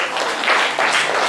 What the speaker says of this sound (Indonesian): Tepuk tangan buat Agus.